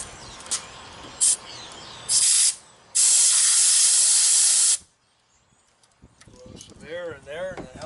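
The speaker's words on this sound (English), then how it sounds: "Air in there, and it helps push the WD a little farther in places where it didn't go by spraying it." Compressed air sprays into the door lock cylinder of a 1997 Freightliner FLD truck in several sharp hissing bursts, short ones first and then a long loud blast, followed by quiet and someone talking.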